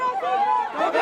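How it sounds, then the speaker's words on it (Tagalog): Crowd of bar exam hopefuls shouting and crying in the courtyard in front of the Supreme Court as the 2024 bar passers list is shown: dense, close cheering and shrieking voices, a loud continuous burst. "Napuno ng hiyawan at iyakan ang harap ng Korte Suprema"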